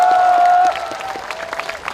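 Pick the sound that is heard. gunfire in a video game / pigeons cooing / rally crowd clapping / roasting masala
rally crowd clapping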